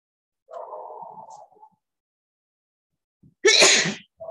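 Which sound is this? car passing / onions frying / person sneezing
person sneezing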